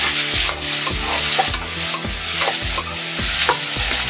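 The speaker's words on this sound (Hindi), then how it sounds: "इसको भी थोड़ा मिक्स कर सकते हैं और पकने देते हैं जब तक वेजिटेबल्स को।" Vegetables are mixed and cooked in a pan for vegetable Maggi masala, a loud continuous sizzle overlaid with rhythmic scraping strokes of a spoon roughly every half second, close up and with no talk.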